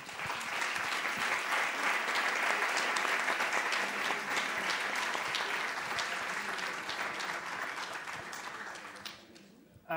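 An audience applauds six authors at a book presentation on medicine in television series. Dense, sustained clapping fills the room for several seconds, then thins and fades out near the end.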